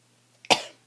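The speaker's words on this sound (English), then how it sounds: "I said I wasn't coughing" A single sharp cough, close and brief, preceded by a small throat sound in an otherwise quiet room.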